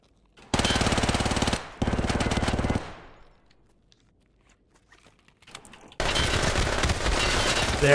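Three long bursts of full-auto fire from a Vector in Escape from Tarkov SPT, loud and close, separated by a quieter stretch with faint footsteps and shuffling.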